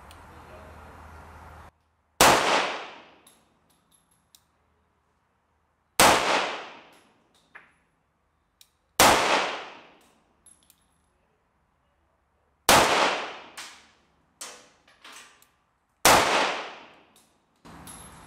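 Tokarev TT33 Soviet pistol fired at close range: six sharp, loud shots spaced a few seconds apart, each ending in a short ringing decay, with faint small clinks between them and no talking.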